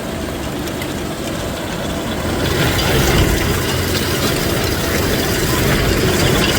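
A self-propelled beet harvester's engine runs from a cold start with a loud, steady mechanical clatter and rattling drone that grows slightly louder partway through, with no voices.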